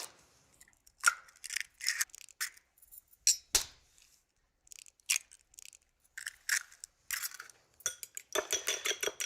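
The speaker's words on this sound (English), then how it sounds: "Whisk them a little bit" Eggs whisked in a bowl for vegetable patties: quick irregular clinks and scrapes of a utensil against the dish, in short bursts with brief pauses, ending in a faster run of strokes, close and moderately quiet with no talking.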